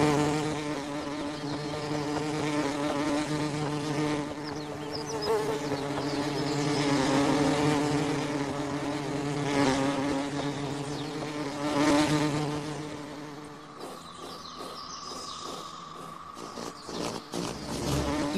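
Bees and wasps buzz steadily near flowers where hummingbirds feed, a dense, continuous droning hum that shifts in pitch as insects move, close and unbroken, with no talk.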